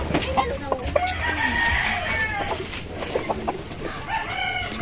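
A gray gamefowl rooster kept for breeding crows and clucks up close, with other fowl calling around it in a busy farmyard.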